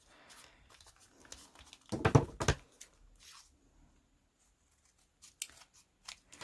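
Scissors trim a paper craft piece, giving a short cluster of crisp snipping and crunching near the start of the middle, followed by faint rustling and a few small clicks.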